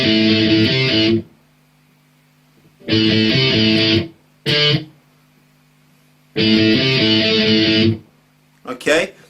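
Distorted electric guitar chugging an intro riff in two loud, close bursts of roughly a second each, separated by near-silence and a short stab, with a last brief hit at the end.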